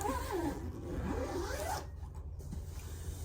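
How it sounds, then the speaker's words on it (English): A storage bag zipper being drawn closed in one steady pull lasting under two seconds, close and clear, followed by quiet rustling. "And I zip this guy up."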